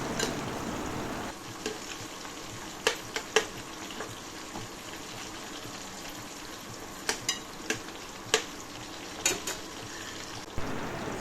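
Whole hibiscus flowers fry in homemade herbal hair oil, giving a steady close sizzle and bubbling. Stirring adds scattered sharp clinks and scrapes, and no one speaks.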